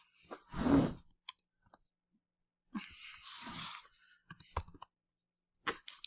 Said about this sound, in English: I had a cat lay down on my keyboard